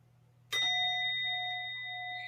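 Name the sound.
gong being rung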